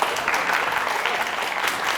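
Audience at a student book quiz final breaking into applause, a steady, moderately loud wash of many hands clapping for the full length, with no voices on top.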